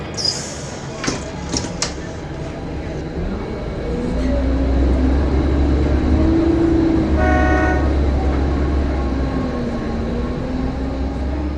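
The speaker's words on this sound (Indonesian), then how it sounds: "Bis yang Rasti naiki mulai meninggalkan terminal itu" Bus pulling out of a busy terminal: a steady low engine rumble builds and holds after a few seconds, with a horn-like toot mid-way and sharp clatter at the start amid background crowd noise.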